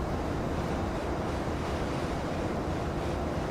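Wind gusts buffet a Boeing 747 freighter in the X-Plane 12 flight simulator, making a steady, dense rushing roar that stays even and moderately quiet throughout.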